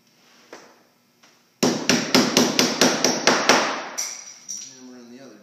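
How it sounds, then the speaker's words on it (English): Drawer front adjusters being hammered into a Euro-style drawer front: a fast run of about nine sharp, loud hammer blows after a couple of quieter taps, with faint background sound at the end. "You just hammer in the drawer front adjusters."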